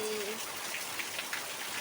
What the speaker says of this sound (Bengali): আমাদের এখানে প্রবল বেগে বৃষ্টি হচ্ছে